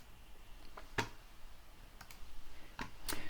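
Computer mouse clicks while working in Adobe Illustrator, a few sharp isolated clicks including a quick double click, close and quiet against a faint room hiss.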